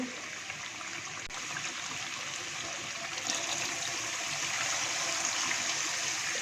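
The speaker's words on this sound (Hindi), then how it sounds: "इसके साथ ही अब मैं इसमें ऐड करूँगी पानी।" Steady water pouring and splashing from a mug into a pot of chicken karahi, a continuous rushing trickle that grows slightly louder partway through, with no voices.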